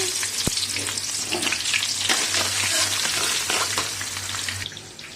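Onions fry in mustard oil with panch phoron spices, making a loud, continuous close-up sizzle with stirring scrapes. The sound fades slightly at the very end.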